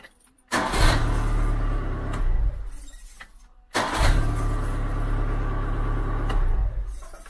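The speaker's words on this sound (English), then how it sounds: "Car runs good as well." A restored car engine, checked with a Crypton Motorscope 335 diagnostic tester, cranks and fires twice, then settles into a steady, loud idle.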